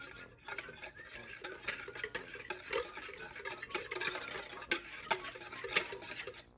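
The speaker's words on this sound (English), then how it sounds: "Okay, then we're gonna mix that together." Ingredients for Fritzle fries are stirred together in a bowl with a utensil, producing soft, repeated scraping and light clinking strokes at a steady pace, close but quiet, with no speech.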